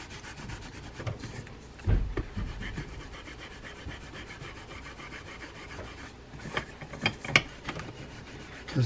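Chrome polish being rubbed by hand on the bridge of a Penn Senator 12/0 large trolling fishing reel during servicing, heard as continuous close rubbing and scrubbing with a few sharp knocks.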